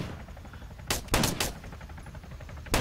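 Rapid gunfire from the video game ArmA III, aimed at a rabbit, crackles out in a few sharp bursts around the middle of the stretch, with quiet rattling between the shots and no one talking.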